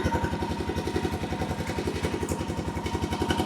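A Honda quad sits idling on a trail, its engine putting out a steady, even, rhythmic chug throughout, close by and moderately loud, with no voices over it.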